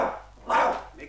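A dog barks in a French radio drama adaptation of Enid Blyton's Famous Five, two short, near, gruff barks in quick succession.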